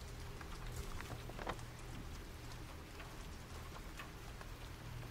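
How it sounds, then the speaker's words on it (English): Steady rain patters continuously at a soft, even level, with scattered droplet ticks and no voices, at night in Silent Hill 2 Remake. "Now it's nighttime and it's raining."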